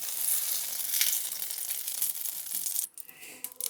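Shiitake mushrooms sautéing in a pan for Japanese ramen, with a bright crackling sizzle that cuts out abruptly and is followed by a few clinks and light handling sounds.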